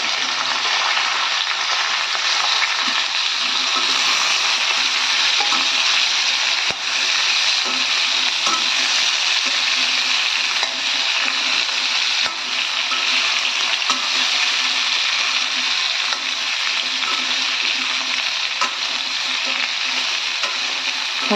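Raw mango pieces stir-frying with mustard seeds in a pan, a steady loud sizzle with faint scraping of stirring running throughout, no voices.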